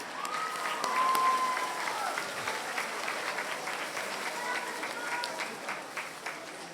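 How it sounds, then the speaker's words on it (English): A town hall audience applauds presenters as they leave the stage, steady crowd clapping at moderate volume, swelling early and then holding, with scattered voices and cheers mixed in. "we're gonna clap them off the stage"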